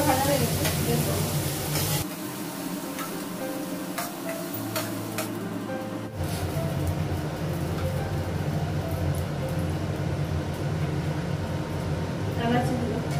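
Slices of eggplant sizzle and crackle in a hot frying pan, loud and near, easing off for a few seconds before the full hiss and stirring return; a voice may murmur faintly underneath.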